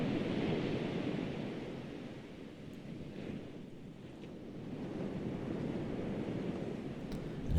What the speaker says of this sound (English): So he's getting the surf sound.